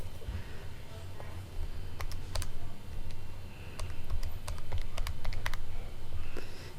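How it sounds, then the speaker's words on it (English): Someone types quickly on a computer keyboard in uneven bursts of close clicking keystrokes over a steady background hum. "I'm going to type this up and find out what I get."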